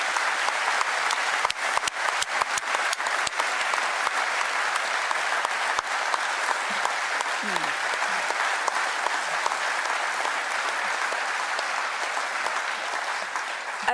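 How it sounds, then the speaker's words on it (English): Long, sustained applause from a gathered crowd at a memorial tribute for the McGuinness family, dense steady clapping with a few sharp nearby claps early on, no talk over it. "could I ask for a huge round of applause to all of the McGuinness clan?"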